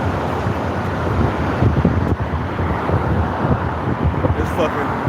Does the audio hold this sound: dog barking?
no